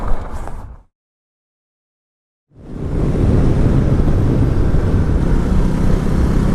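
A 2018 Ducati Multistrada 1260S motorcycle on the road, with brief engine noise, a short cut to silence, then steady loud riding noise, a broadband rush of engine and wind buffeting.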